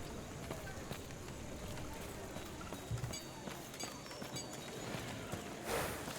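Hooves clip-clop from a horse in the action RPG Last Epoch, an irregular run of hoof beats under game ambience and a faint voice, with a short burst of noise near the end.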